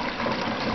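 Water is siphoned through an old garden hose into a tank as a brief, close, steady gushing rush of flowing liquid.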